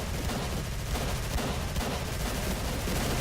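Sustained gunfire in Call of Cthulhu: Dark Corners of the Earth, a dense continuous rattle of shots with no pauses, close and loud throughout.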